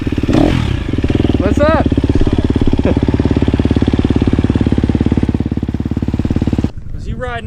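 Pit bike engine idling steadily and close up, a dense even rumble through most of the clip before cutting out near the end, with brief speech over it.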